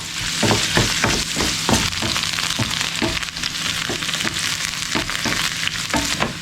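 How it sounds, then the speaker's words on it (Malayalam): Coconut pieces and onions fry together in a pan, sending up a loud, steady sizzle broken by regular scraping and stirring strokes close at hand. "തേങ്ങാക്കൊത്തില്ലേ അതിട്ട് കൊടുക്കുകയാണ്. ഇതെല്ലാം നമുക്കൊന്ന് മൂപ്പിച്ചെടുക്കാം"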